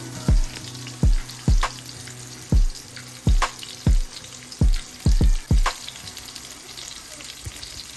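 Fish pieces frying on a flat tawa in Telugu spicy crispy fish fry, a steady oil sizzle broken by about ten sharp clacks and taps of a spatula, close and fairly loud, with no talking.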